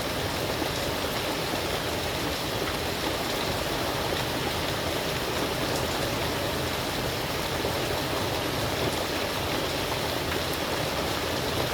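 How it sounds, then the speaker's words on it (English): Steady rain on an umbrella, with water dripping through where the umbrella leaks, heard as a dense, constant hiss of drops that stays close and unbroken throughout, with no talking. "my page is actually getting wet because my umbrella's dripping"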